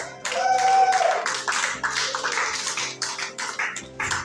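Clapping from an audience at a forex trading seminar, a burst of uneven hand claps that starts loud, then breaks into scattered, fading claps over a few seconds with no talking.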